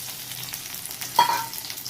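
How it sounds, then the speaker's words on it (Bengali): Onions and green chillies frying in hot oil, a soft continuous sizzle with light stirring and one brief sharper hiss, close and without any talking. "ওদিকে পেঁয়াজটা ভাজা হচ্ছে"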